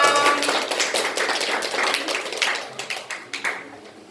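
Audience at an Islamic boarding school event in Semarang applauds, a burst of close, dense clapping that thins into a few scattered claps before fading, with no talk.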